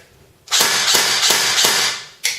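Four quick, evenly spaced shots from a G&G FNC airsoft rifle in semi-automatic fire, each a sharp hissing crack, followed after a short pause by one more.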